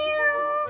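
A person's voice imitates a cat, one short drawn-out meow held steadily and heard close and clear on its own.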